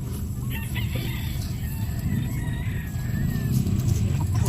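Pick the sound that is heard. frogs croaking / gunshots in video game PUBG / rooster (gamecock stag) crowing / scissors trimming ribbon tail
rooster (gamecock stag) crowing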